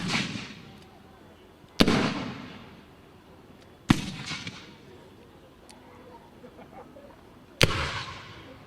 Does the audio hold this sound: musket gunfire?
yes